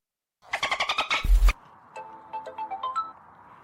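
A phone plays a chirpy electronic ringtone before a call is answered, starting with a quick run of bright beeps and a brief buzz, then continuing with a softer melodic tone sequence.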